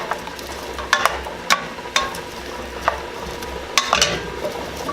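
Potatoes fry in a pan, a soft steady sizzle broken by repeated sharp scrapes and knocks as they are stirred and kept moving, close by and without speech.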